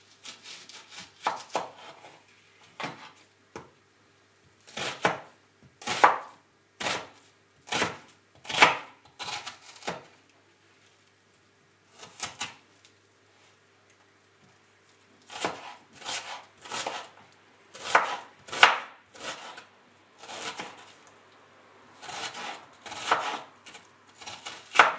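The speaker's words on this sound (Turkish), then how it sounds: "Şimdi bunları ince ince doğrayacağım." A knife chops onions and garlic finely on a cutting board nearby in quick rhythmic bursts of sharp taps, separated by short pauses.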